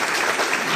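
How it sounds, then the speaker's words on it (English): Brief burst of dense, steady clapping from family and friends cheering graduates at a graduation ceremony, a continuous wash of hands lasting under a second. "Y'all to give them a clap of hands."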